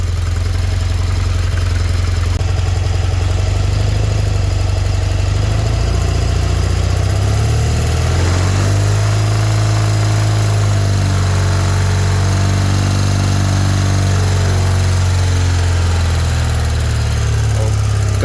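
BMW R100RS motorcycle engine running loud and close, idling at first and then revving up and holding at a higher steady speed around 3000 RPM during ignition timing at a bush camp.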